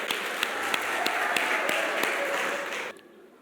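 A church congregation claps for Jesus, a steady round of applause with a few distinct sharp claps before it cuts off abruptly.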